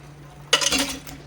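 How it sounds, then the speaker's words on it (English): Liquid from a shrimp and crab chowder poured off through a sieve into a bowl: after a quiet start, a short splashing rush with light metallic clinks lasts about half a second, close and clear. "what you need is a nice bowl and a sieve. Colander would work, and you just want to pour it off."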